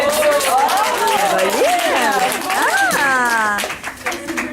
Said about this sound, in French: Bonne main d'applaudissements pour Caroline.